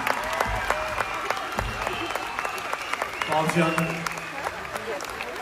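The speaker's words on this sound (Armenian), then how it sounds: "Բարձր, ավելի բարձր ծափարում ենք հայրիկիս։" Concert audience at a solo show applauding, steady dense clapping from a large crowd filling the room, with someone talking over the applause and a brief musical tone near the end.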